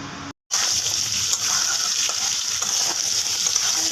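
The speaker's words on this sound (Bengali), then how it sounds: "দেখো আলু ভাজা হচ্ছে" Potatoes seasoned with salt and turmeric fry in a pan, giving a steady, loud sizzle with a light spattering hiss. The sound starts after a brief gap near the beginning and carries on unbroken, with no voices.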